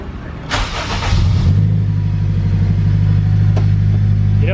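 A turbocharged K20 engine in a Honda Civic EK hatch cranks and catches, then settles into a loud, close, steady lumpy idle.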